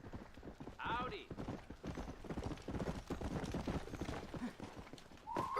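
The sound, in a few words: horse hooves clip-clopping in a video game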